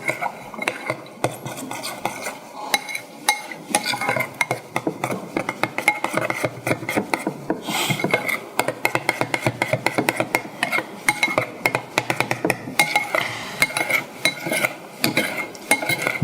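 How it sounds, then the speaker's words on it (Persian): Boiling water is poured into a pan of sauce to thin it, then stirred, with steady scraping and clinking of a utensil against the pot, close and continuous without talk. "خب 1 کم آب جوش میریزیم، سسمون رو باش رقیق کنیم."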